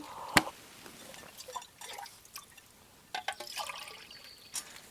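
Water trickles and splashes into a metal mug in short uneven bursts, with a sharp metallic clink at the start and scattered drips.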